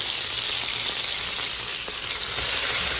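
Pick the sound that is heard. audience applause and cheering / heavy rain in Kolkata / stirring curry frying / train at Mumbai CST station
stirring curry frying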